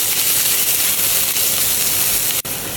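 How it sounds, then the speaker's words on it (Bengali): Onions softening in hot oil for keema paratha, a steady broadband sizzle and hiss that holds evenly close by, with a brief dip near the end. "পেঁয়াজটাকে আমরা সফট হওয়া পর্যন্ত ভাজবো,"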